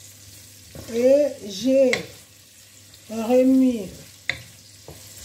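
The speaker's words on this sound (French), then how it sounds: "ça commence à avoir chaud et je mets l'oignon" Chopped onion sizzles and is stirred in a hot pot while a koko broth is being prepared, a soft steady crackle beneath a nearby voice speaking in short phrases, with a sharp utensil tap near the end.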